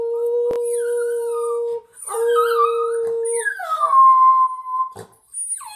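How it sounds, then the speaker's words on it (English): A pet dog named Sonny howls in long, wavering tones, several drawn-out howls with yips and whimpery slides between them, loud and close, with a person briefly speaking. "And maybe you can howl for him."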